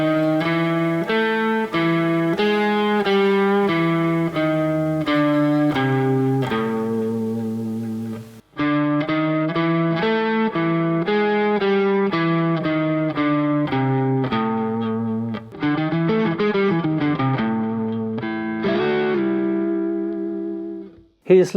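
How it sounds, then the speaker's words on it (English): An electric guitar plays a lick built on color tones in the lower register, a steady run of clear sustained notes that briefly stops midway and then resumes with bends and slides near the end, close and alone. "So here is a lick where we use both our color tones here in the lower register."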